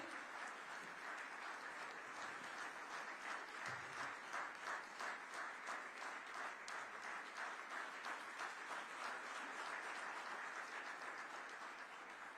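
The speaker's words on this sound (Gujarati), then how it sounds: "આ વૈભવની ક્ષણને ખૂબ તાળીઓ સાથે વધાવીએ" An audience at a book launch event claps with a steady, evenly pulsing rhythm for several seconds, fairly faint and distant in a hall.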